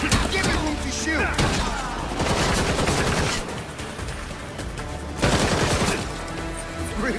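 Bursts of rapid gunfire in an action scene, loud and dense, with repeated volleys and an explosive hit around the middle, while people shout over the shooting.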